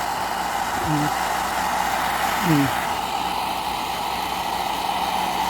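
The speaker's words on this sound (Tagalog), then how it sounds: "Nakatapat lang sa kanya yung blower." Hair dryer blowing steadily at home during a Sunday grooming routine, held at a distance from a pet after powdering; constant broadband whoosh with a steady hum, and brief speech-like sounds cut in partway through.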